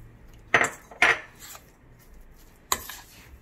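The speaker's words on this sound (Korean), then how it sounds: "잘 섞어줍니다." Metal spoon strikes against a bowl while mashed potato and water are mixed into dough for Hokkaido-style potato mochi: three sharp clinks, two close together, then one more after a pause.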